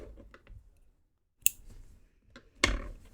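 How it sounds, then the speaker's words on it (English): Scissors snip off crochet yarn on an amigurumi piece: a couple of quiet, sharp close-up clicks with faint handling rustle in between, in an otherwise hushed room. "Oh, also I'll just snip this off."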